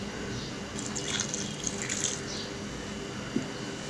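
Water trickles and splashes softly into a mix of beetroot, carrot pieces, salt and chaat masala for juice, a faint steady pour heard alone.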